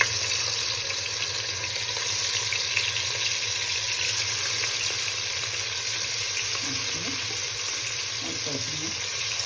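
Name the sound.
katla fish frying in hot oil in a wok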